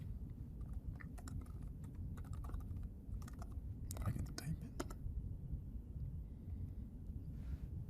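Keystrokes on a computer keyboard come in short clustered bursts, moderately close, over a steady low background hum, with the typing thinning out toward the end.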